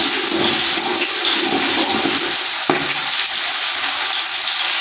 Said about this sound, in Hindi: सबसे पहले हम प्याज डालेंगे पतीले में, इस प्याज को हमने मामूली फ्राई करना है 1 मिनट के लिए।